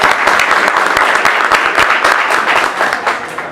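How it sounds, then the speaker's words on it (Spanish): Loud audience applause after a talk about water, a thick steady roar of clapping from a crowd with distinct sharp claps near the front, gradually thinning toward the end. "un aplauso por favor"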